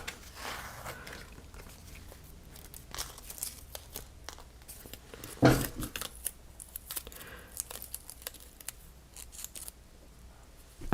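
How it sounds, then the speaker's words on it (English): Scissors snip paper in freehand circles at a craft table, a close, irregular string of crisp cuts with occasional rustles and one louder clunk midway, no talking. "It's hard to cut a circle freehand."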